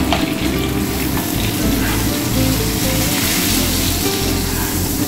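Pabda fish with potato and eggplant frying in a pan, a loud, steady sizzle and crackle of hot oil running continuously up close, with no talking.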